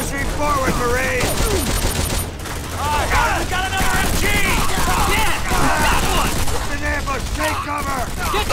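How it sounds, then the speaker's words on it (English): Sustained gunfire from Call of Duty: World at War on PS2, dense bursts of rifle and machine-gun shots crackling continuously with shouted battlefield voices mixed in. "Incoming fire from that building!"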